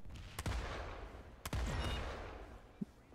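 Gunfire in the online shooter Planetside: two sharp, loud shots about a second apart, then a fainter third crack, over a constant background rumble of battle ambience.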